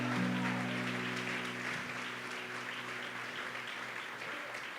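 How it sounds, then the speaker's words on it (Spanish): A church congregation at a revival convention applauds, a steady wash of clapping heard at a moderate distance over a low sustained hum that lasts the whole stretch. "Vamos, aplauda."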